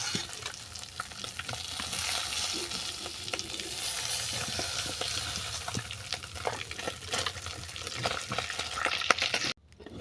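Hilsa fish lightly frying in oil, a close, steady sizzle with frequent spatula clicks and scrapes against the pan, ending abruptly in near silence.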